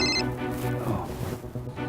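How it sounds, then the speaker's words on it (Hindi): A telephone rings with a short, bright electronic tone at the start, then a sustained tonal backing continues at moderate level, with no speech. "अरे किसका फोन आ गया?"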